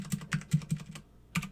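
Quick, close keystrokes on a computer keyboard while router configuration commands are entered, a rapid run of about five crisp taps, a short pause, then one more tap.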